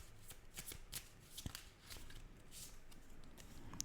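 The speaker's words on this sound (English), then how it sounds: "Let's see one more card, please." Tarot cards are shuffled by hand in a quiet room, a soft continuous riffling and sliding close by with a few sharper flicks, no talking over it.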